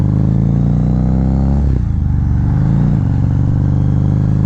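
Loud, close engine of a 2009 Harley-Davidson V-Rod motorcycle on a test ride, a deep throbbing drone that dips briefly as the revs shift, then settles back into a steady roar.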